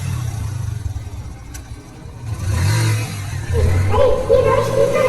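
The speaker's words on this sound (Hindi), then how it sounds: "हेडलाइट की चमक और इंजन की गड़गड़ाहट ने माहौल बदल दिया।" Motorcycle engine rumble with a bright headlight cutting through darkness in a horror story scene, a steady low drone that swells louder toward the end over eerie background ambience.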